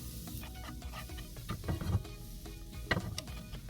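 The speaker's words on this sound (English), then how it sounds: "Now I think our pan is heated, so next you're gonna go in with your butter." Butter sizzling and spreading in a heated pan while preparing one-pan egg toast, with a soft continuous crackle and a few louder scraping stirs around the middle and near the end.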